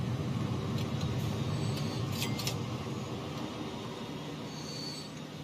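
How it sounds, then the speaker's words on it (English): A train in the video game Transport Fever 2 rumbles steadily through a rail section, a continuous loud roll of wheels with brief high metallic squeals and clicks over the top. "let's get this train through here quickly"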